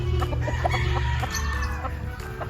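Roosters and young bullstags in a Batangas yard, part of a flock of about thirty, cluck and crow together loudly and close by in a dense, overlapping chorus.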